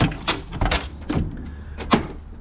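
A sliding side door on a van is opened, with a few close clunks and rattles from the latch and door over a couple of seconds.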